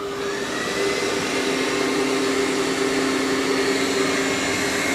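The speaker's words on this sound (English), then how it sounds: "it's going to vacuum that carpet" A Dreame robot vacuum with its mop pads lifted runs over carpet, giving a steady, loud, close whirring drone with a constant motor tone that holds without a break.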